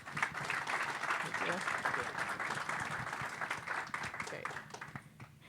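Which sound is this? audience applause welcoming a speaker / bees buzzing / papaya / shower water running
audience applause welcoming a speaker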